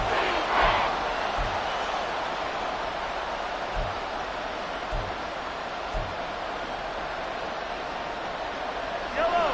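A stadium crowd roars in the Madden 24 football video game, a dense, steady wash of noise trying to force a false start, with a commentator's voice talking over it and a few soft thumps.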